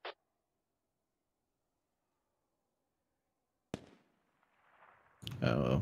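In the tactical shooter game Squad, a single sharp gunshot cracks in a quiet scene, followed by a faint rumble before a voice begins talking.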